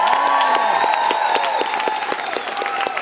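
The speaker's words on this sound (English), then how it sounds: "He can't wait to hear your applause." Concert audience at a show in Luxembourg claps steadily over sustained ringing stage tones, with scattered sharp claps standing out from the crowd.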